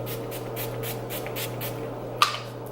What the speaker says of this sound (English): that's why I kind of spritz it far away